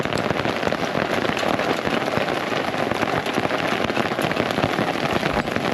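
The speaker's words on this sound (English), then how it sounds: "We're rapidly trying to pack up, and it's hailing like crazy." Dense, continuous pattering of hail striking surfaces at a campsite in Gunnison National Forest, loud and unbroken throughout with no voices.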